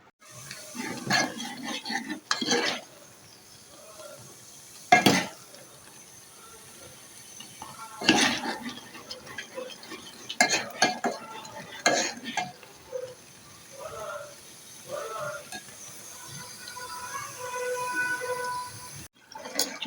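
Homemade ghee simmering in a pan while being stirred, with intermittent scraping strokes of a spoon over a steady soft bubbling sizzle, close and moderately loud, no talking.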